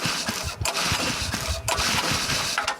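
An engine on a Ford Falcon compressor sputters and tries to start, loud and close, with rough uneven chugging broken by a couple of abrupt dropouts before catching and running choppily.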